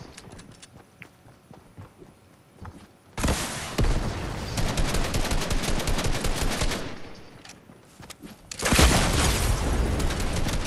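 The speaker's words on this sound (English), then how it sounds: "Heard shot." Bursts of rapid gunfire in a battle royale video game, a quieter stretch of scattered shots followed by two loud, sustained volleys of dense firing and explosions, without speech.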